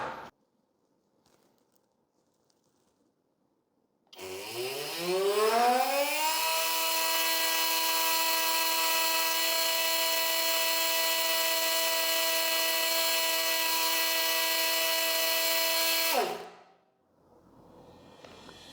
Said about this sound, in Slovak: Brúska sa do maximálnej oscilácie dostáva približne za 3 sekundy.